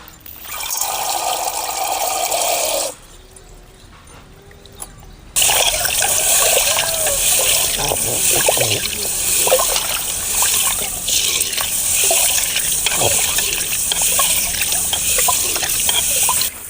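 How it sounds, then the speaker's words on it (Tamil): Urad dal lentils being washed by hand in water in a home kitchen: continuous sloshing, trickling and splashing, close and fairly loud, with a brief quieter pause early on. "ரெண்டாறு ஆறு நல்லா சுத்தமாக கழுவி எடுத்துக்கணும்"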